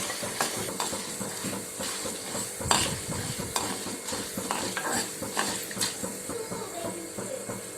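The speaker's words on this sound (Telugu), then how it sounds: "1 స్పూన్ పచ్చిశనగపప్పు కొంచెం ఫ్రై అవుతుండగా 1 స్పూన్ మినప్పప్పు వేసుకుని వేయించుకోవాలండి" Chana dal and urad dal frying in oil in a pan for curry leaf karam powder, with a steady sizzle and repeated spoon stirring and scraping against the pan, close and continuous, no talk.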